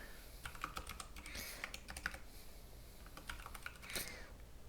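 A username being typed on a computer keyboard, with close, quiet, irregular key clicks in short bursts and no talking.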